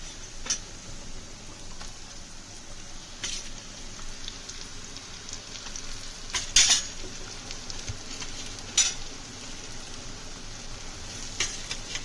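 Fried eggs go into a simmering country chicken curry and are stirred with a utensil, with light sizzling and scattered metallic scrapes and clinks against the pot.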